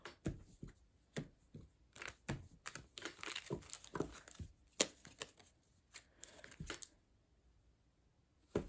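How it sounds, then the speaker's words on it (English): Tarot cards being shuffled by hand, a quick series of soft crisp riffles and slaps in irregular bursts with short pauses, close and fairly quiet, no talking. "I like to pre-shuffle and I didn't get a chance to pre-shuffle."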